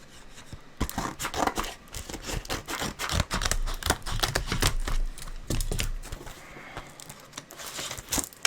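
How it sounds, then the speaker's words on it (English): Scissors snipping and tearing through plastic cassette packaging, a busy run of sharp close-up cuts, crinkles and rustles with brief pauses, fairly quiet overall. "So I have to use some scissors for this one."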